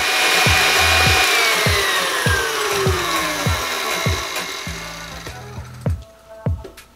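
An electric kitchen mixer whirs through a batter of butter, sugar, egg yolks and vanilla, its loud motor tone sliding downward as repeated sharp clicks and knocks of the beaters tap the bowl, fading toward the end.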